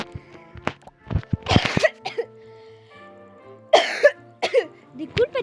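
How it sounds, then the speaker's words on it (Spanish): A person coughs several times in short, harsh bursts with brief quiet gaps between them, close to the microphone. "disculpa chicos, tengo un poco de tos"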